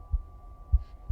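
A slow heartbeat pulses with three soft, low thumps spaced evenly over about a second, steady and close under a faint hum.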